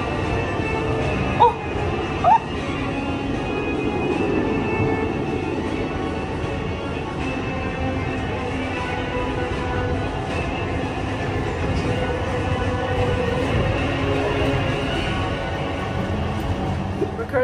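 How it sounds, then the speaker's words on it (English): Inside the Alton Towers monorail, a steady, loud mechanical hum and rumble fills the cabin, with a couple of sharp clicks early on and people talking in the background. "We're currently stuck in the monorail."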